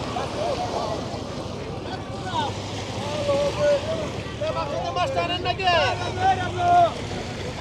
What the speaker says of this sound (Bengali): দেখেন পদ্মা নদীর ঢেউ